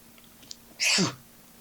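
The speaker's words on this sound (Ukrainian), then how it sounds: "Санді чхнув." An audiobook narrator performs a single loud, close sneeze: a short intake of breath bursting into a sharp, hissing exhale over a quiet background.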